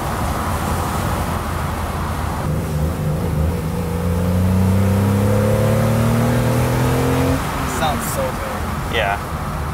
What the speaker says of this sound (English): You can hear the secondaries open up in the carb.